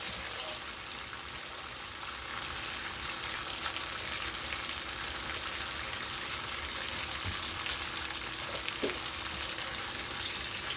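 Smoked herring and other ingredients frying together in a pan, a steady close hiss and crackle of hot oil held for about eleven seconds, with a few faint knocks.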